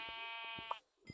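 A sheep in a survival video game gives one short, nasal bleat, close and clear, followed by a brief pause and a faint clipped sound.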